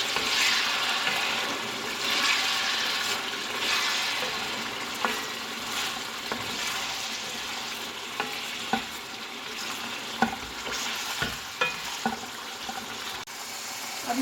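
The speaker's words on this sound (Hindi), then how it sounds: "थोड़ा सा इसको भून लेंगे।" Garlic and ginger fry with browned chicken in a pan for a stew. There is a steady close sizzle, with irregular clicks and knocks from a utensil stirring the pan.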